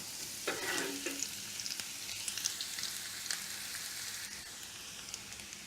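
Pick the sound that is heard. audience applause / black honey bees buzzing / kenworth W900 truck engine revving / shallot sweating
shallot sweating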